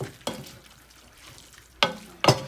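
Browning meat for Filipino spaghetti sauce is stirred in a pan with black pepper: a quiet background sizzle is broken by three scraping spoon strokes, one early and two close together near the end. No one speaks.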